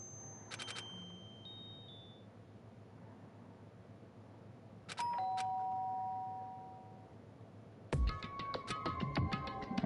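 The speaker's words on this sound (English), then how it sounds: "did I hear the doorbell?" A doorbell in the video game Danganronpa chimes twice, each ring a bright two-tone ding-dong, followed by a busier burst of ringing tones over a faint background hiss.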